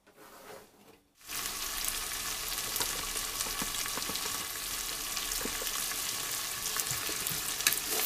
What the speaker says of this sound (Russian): Лук пускай поджарится чуть-чуть